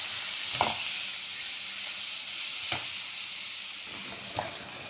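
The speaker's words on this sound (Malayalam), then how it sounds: "ഇത് കാബേജ് ഇട്ട് കൂട്ടാം" Cabbage sizzles in a hot pan with mustard seeds, lentils, ginger and green chili, a steady close frying hiss broken by a few sharp stirring scrapes, with no talking.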